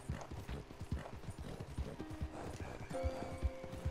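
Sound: horse galloping and whinnying in a video game

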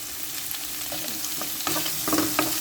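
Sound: onion stir-frying in a pan with shrimp

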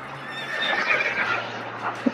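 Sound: American Quarter Horse neighing and hooves, Star Stable video game

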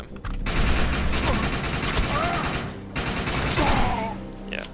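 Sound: gunfire in the video game Defiance 2050

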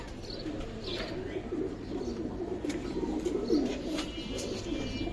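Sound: pigeons cooing

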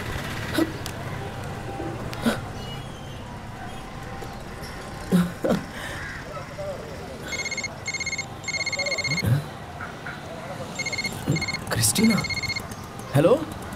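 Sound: telephone ringing

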